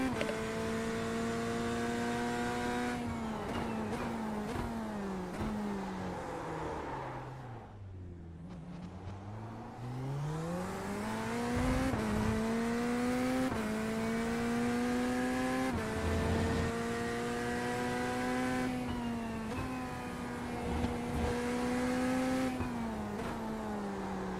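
A race car engine screams through gear changes in iRacing at Fuji or Portimao, rising revs with quick upshifts, a deep dip as it slows for a corner, then hard acceleration again, loud and close throughout with no talk.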